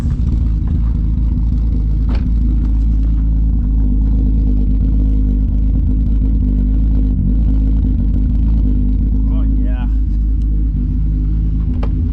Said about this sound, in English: we should have some VR6 sounds